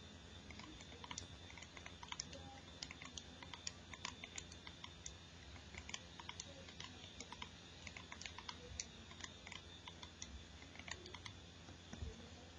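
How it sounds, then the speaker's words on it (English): Data points are keyed into a calculator or keypad as a rapid, irregular run of small sharp clicks, quiet and close, continuing with no talk over a steady faint background hiss. "I type in my points"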